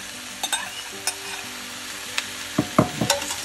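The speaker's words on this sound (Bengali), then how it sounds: "এবারে পুরো চিকেনটা দিয়ে দেবো" Chicken going into a pan of frying onion and capsicum for chili chicken, a low sizzle with scattered clinks and scrapes of stirring that build into a few louder bursts near the end, with no talk.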